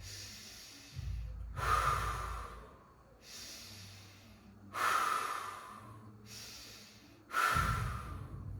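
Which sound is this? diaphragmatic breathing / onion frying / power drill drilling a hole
diaphragmatic breathing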